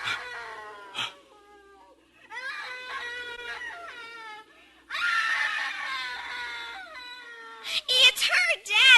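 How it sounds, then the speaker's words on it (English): A woman in a 1955 radio suspense drama screams in long, piercing wavering cries that break into higher shrieks near the end, loud and close, with a voice heard briefly in between. "It's her, Dad. It's the screaming woman."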